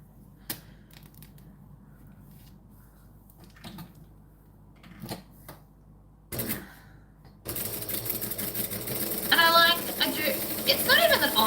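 A sewing machine stitching a wallet runs in a fast, loud mechanical rattle during the last few seconds, after a quieter stretch with scattered handling clicks.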